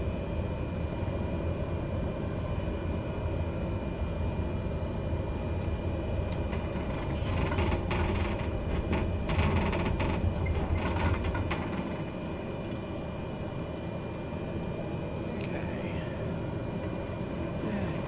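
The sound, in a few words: aircraft engine before takeoff in flight simulator video game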